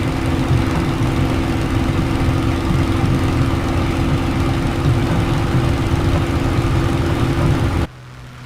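A silver Supermarine Spitfire's engine in Microsoft Flight Simulator is brought up to power on the takeoff roll at Andrewsfield: a loud, steady, dense propeller-engine drone that holds throughout before cutting off abruptly near the end.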